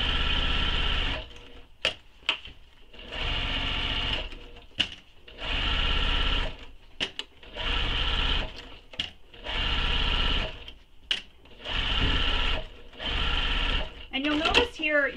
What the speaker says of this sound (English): Basting the exterior and lining together